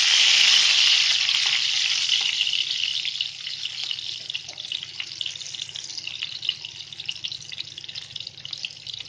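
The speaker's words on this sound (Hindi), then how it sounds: "अब ये प्याज को हम ब्राउन करेंगे।" Onions fry in hot oil for a tempering over lentils, a loud bright sizzle up close that starts strong and settles to a steady, slightly crackling hiss.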